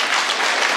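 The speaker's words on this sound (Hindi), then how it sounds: "मैं चाहता हूँ एक बार जरूर ताली बजाते हैं आप" Brief burst of dense audience clapping at a poetry gathering in Delhi, loud and steady throughout with no talk over it.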